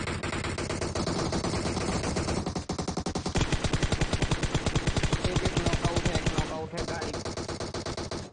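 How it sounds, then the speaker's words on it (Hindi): Rapid automatic gunfire in the mobile battle royale game PUBG Mobile, dense bursts of evenly spaced shots running nearly throughout, loud and continuous with a brief break partway, while a player talks over it. "अपने को तो सिमोन पे फायरिंग करना है"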